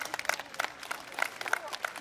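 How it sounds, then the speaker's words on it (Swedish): A crowd at a police day event on Åland claps for arriving police, giving scattered, uneven claps with distinct sharp hits, fairly close, over a background of voices and outdoor bustle. "Ska vi ge en stor varm applåd till polisen som kommer?"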